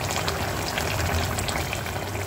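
Fish curry gravy bubbling and simmering in a pan on a stovetop over raised heat, a steady close sizzling and bubbling hiss that runs evenly throughout with no talk.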